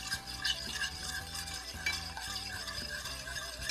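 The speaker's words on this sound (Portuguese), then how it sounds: "Então eu vou colocar aqui e vou deixar aqui fervendo." Sugar mixture for passion fruit syrup bubbling in a pan on the stove, a steady close simmering hiss with light utensil clinks and no talking.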